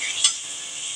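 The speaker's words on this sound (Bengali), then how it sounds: "এখন আমি আলুগুলো অ্যাড করব।" Potatoes dropped into spice paste frying for prawn tel jhal, a brief clatter followed by a steady, bright sizzle of hot oil, close and continuous.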